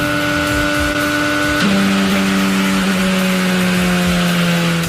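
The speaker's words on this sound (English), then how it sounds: "that's an engine failure that does not give you any warning at all" Loud, strained Mazda MX-5 race car engine whine in iRacing with steady harmonics that suddenly drops in pitch partway through as the engine fails without warning, then continues lower and rougher.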